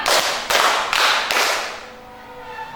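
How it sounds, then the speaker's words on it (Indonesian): Children in a classroom rhythm game clap four times in unison. The claps are crisp and loud and come at a steady pace, followed by a quieter tail of room sound. "Tepuk empat."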